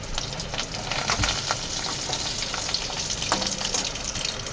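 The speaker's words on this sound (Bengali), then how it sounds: "মাছের ডিম দিয়েছিল, মাছের ডিমটা ভেজে নিচ্ছি" Fish roe fries in oil with a soft, continuous sizzle and crackle, fairly quiet and close, with a few small pops rising above the hiss.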